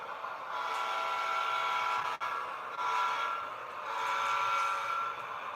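A train horn sounds in long sustained blasts, loud and close, with a short break partway through before the tone swells again over rail rumble.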